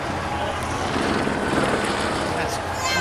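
Police helicopter hovering over a Philadelphia block party, its continuous rotor drone mixed into a noisy crowd with people talking and shouting nearby.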